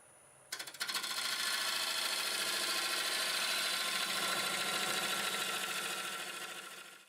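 A wood lathe spins up with a Siberian elm pedestal bowl at about 900 RPM, starting abruptly after a brief quiet moment, then a loud, steady, dense whirring and rattling that fades slightly near the end.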